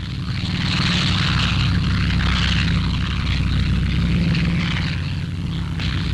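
Mitchell bombers fly overhead with a loud, continuous propeller-engine drone, a dense, steady roar that holds evenly throughout without talk.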